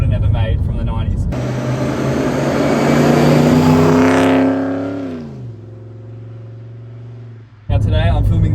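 Holden Commodore VS V8 on winding hill roads near Melbourne, its engine rising loudly under acceleration to a high revving peak, then easing off to a steady lower drone before a sudden return of loud noise.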